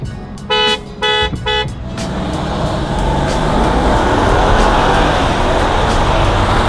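Three short car horn honks in quick succession, loud and close, followed by a steady roar of traffic or engine noise.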